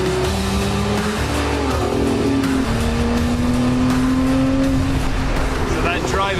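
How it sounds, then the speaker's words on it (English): A brand-new Lotus Emira's engine drones and roars steadily while driving, its rising tonal whine held loud throughout, with wind and road noise and a voice talking over it. "This engine just roars"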